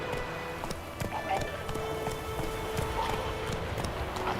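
Roach the horse galloping in The Witcher 3: Wild Hunt, quick steady hoofbeats under a continuous low outdoor ambience, fairly quiet.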